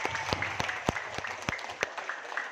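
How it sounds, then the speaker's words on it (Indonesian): A seated audience at a marketing seminar applauds, a dense wash of clapping with several sharp, prominent individual claps close by, sustained throughout. "Tepuk tangan untuk kita semua."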